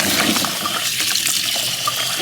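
Tap water runs steadily into a bowl as potatoes are washed, a loud continuous splashing rush with faint knocks of the potatoes, no speech.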